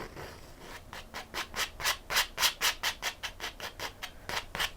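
Rhythmic palette knife scraping across a painted canvas while painting a purple mountain scene, about twenty close, even strokes in a steady back-and-forth rhythm with no talking.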